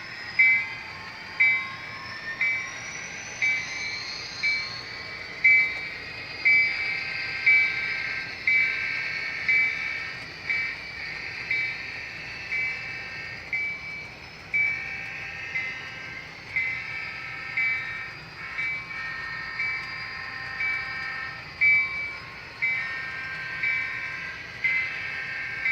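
An Athearn HO scale Norfolk Western model train runs on Bachmann EZ track, a steady close mechanical hum with a rhythmic clicking pulse of wheels over rail joints throughout, plus faint high whine from the motor.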